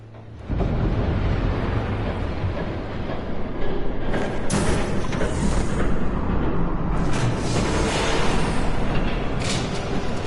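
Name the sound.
train approaching, from Batman Telltale Series video game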